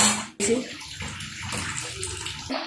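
Broth pours into a pan of fish curry as a short, splashing gush of liquid, loud and close, after a brief pause at the start and fading out with light sloshing.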